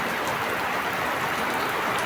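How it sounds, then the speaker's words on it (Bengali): Steady rain falls over a village after a long dry spell, a dense, even hiss that holds at one level with no voices or other sounds over it. "আপনারা দেখতে পাচ্ছেন বৃষ্টি"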